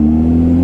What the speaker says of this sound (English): Full throttle up.